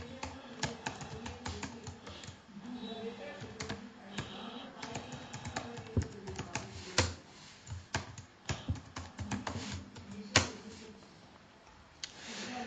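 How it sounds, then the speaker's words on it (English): A username and password are typed on a computer keyboard, with a close, quiet run of irregular key clicks and a few sharper taps at uneven intervals. "Now I'll enter my username and password."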